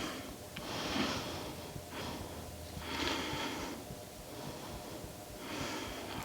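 Slow breathing during a calm yoga posture, three or four long airy inhales and exhales rising and falling at an even pace, soft and close with no talking.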